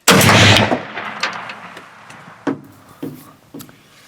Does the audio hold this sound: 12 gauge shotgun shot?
yes